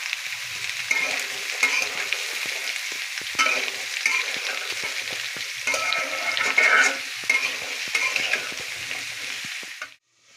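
Papaya frying in a pan while being stirred, a steady sizzle with scraping strokes of a spatula running throughout, close and unbroken, until it stops abruptly at the end.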